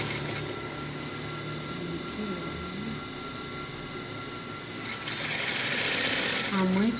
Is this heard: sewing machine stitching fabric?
yes